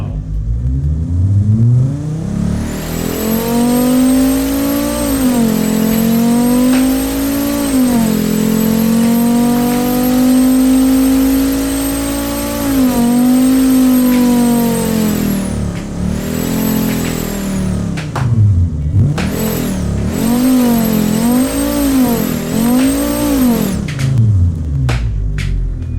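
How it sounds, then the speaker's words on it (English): An inline five-cylinder engine in the game Automation revs loudly, rising and falling in pitch through long sustained pulls, then several quick blips near the end, close and prominent. "listen to the symphony of the inline 5 engine"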